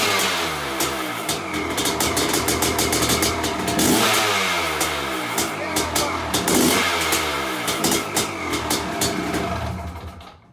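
A Honda CR500 two-stroke motorcycle engine kicks into life and revs hard outdoors, a loud, raspy mid-pitched roar with repeated rising throttle blips over about ten seconds, close by and dominating.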